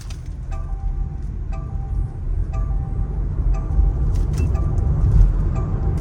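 Mahindra electric car accelerating in sports mode, a steady low road rumble and whine building gradually, with light periodic ticking clicks recurring over the interior noise.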